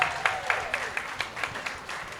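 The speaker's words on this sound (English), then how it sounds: "can you just start clapping right now for hip hop's 53rd birthday?" An audience claps at a hip hop anniversary podcast event, with evenly spaced, moderately loud claps in a steady rhythm and no talking over them.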